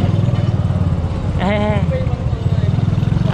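A motorcycle engine putters steadily at close range during a ride, a rhythmic low throb running throughout, briefly overlaid by a passing horn-like tonal sound midway.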